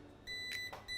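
A smart home security system alarm beeps faintly in a few short electronic tones over a quiet room hum, heard just after a gas lighter test.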